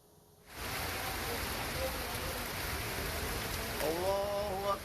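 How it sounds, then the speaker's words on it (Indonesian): Heavy rain pours down in Padalarang, West Java, a dense, even hiss that starts abruptly and holds steady, pushed by strong wind, with a faint tonal whine rising near the end. "Hujan deras dan angin kencang melanda sebagian wilayah Padalarang, Bandung Barat, Jawa Barat"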